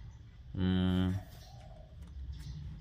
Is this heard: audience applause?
no